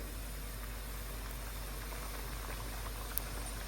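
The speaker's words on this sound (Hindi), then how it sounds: "लो टू मीडियम हीट पे ऑयल को मैंने गरम कर लिया है। अब इसमें हम समोसे डालेंगे।" Samosas fry in oil heated over low to medium heat in a kadhai, giving a faint, even, continuous sizzle with no pauses.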